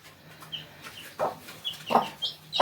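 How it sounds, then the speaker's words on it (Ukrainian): Eight newly hatched chicks chirp in short, high peeps, scattered and irregular, close by with quiet background. "почали лопитися курчата. От вийшло їх вісім."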